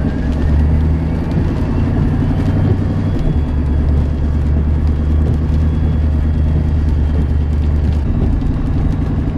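A Nissan Titan XD pickup engine with an EGR delete hums and rumbles steadily from inside the cab while driving, a constant low drone with no talking.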